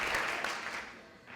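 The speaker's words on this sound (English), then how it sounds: "Can I get a round of applause for everyone who just presented?" Applause from the crowd at a university startup challenge final for the presenters, steady broadband clapping sustained throughout a short burst and tapering slightly at the end.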